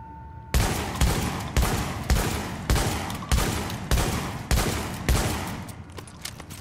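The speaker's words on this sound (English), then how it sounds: "I want you to see how fast this reloads and how stable it is" Rifle fire in the video game The Division: a regular series of about ten loud, sharp shots spaced roughly half a second apart, each with a short decaying tail, no voices.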